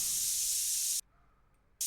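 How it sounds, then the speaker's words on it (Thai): An aerosol spray can in TCG Card Shop Simulator gives one steady, bright hiss for about a second, then cuts off abruptly, with a brief restart at the end. "สเปรย์ก็ไปฉีดเล่นดีกว่า"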